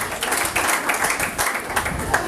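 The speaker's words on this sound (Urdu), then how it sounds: "تو آئے خدا کے کلام کے لیے زوردار تالیاں بجائیں" A church congregation at a Palm Sunday service applauds loudly, dense continuous clapping from many hands filling the room without pause.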